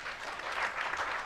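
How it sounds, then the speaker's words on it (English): Applause from an audience at a public service superannuation scheme annual general meeting, a steady dense wash of clapping at moderate level that runs unbroken through the short stretch. "Let's clap for Rono once more"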